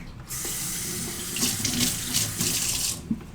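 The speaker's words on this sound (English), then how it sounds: "Rinse off my cutting board really quick." A kitchen tap runs as a cutting board is rinsed beneath it, a steady close stream with splashing that swells briefly and then cuts off near the end.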